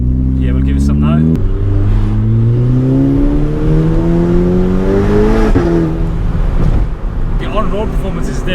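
Tuned VW Golf GTI with an upgraded TT480 hybrid turbo accelerating hard, engine note climbing steadily through a long gear before a shift and another rising pull, loud and close from inside the car.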